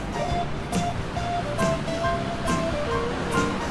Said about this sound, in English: It's what we call storm surf. Huge waves, too much.